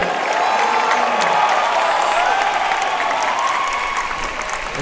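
Sustained applause from a crowd at the center court women's final of a padel masters finals in Jakarta, steady and fairly loud throughout, easing slightly toward the end.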